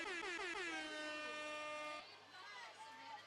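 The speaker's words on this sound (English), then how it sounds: "I do the air horn." A loud air horn blasts to start a 50 free race at a YMCA of New England swimming championship, one long sustained blare for about two seconds, then crowd noise and voices in an indoor pool.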